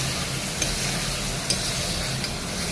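Tomato fries in hot oil mixed with spices, giving a close, steady sizzle with a few soft scraping knocks as it is stirred.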